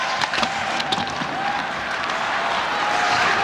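Loud, sustained crowd noise rolls through a hockey arena during a New York Rangers versus Washington Capitals game, with a few sharp knocks and thuds scattered early over the dense roar.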